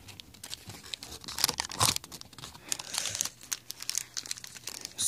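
Sheets of paper being crumpled and crunched up close in irregular bursts of crinkling and rustling, with no talking.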